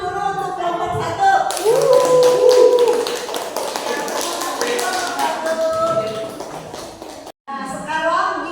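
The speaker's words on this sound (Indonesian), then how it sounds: "kasih tepuk tangan dulu untuk kelompok 1" Classroom applause for a student group, brisk close clapping from a group of students over chatter and voices, which stops abruptly near the end before talk resumes.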